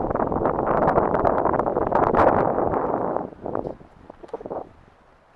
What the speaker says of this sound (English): Yeah, windy out here.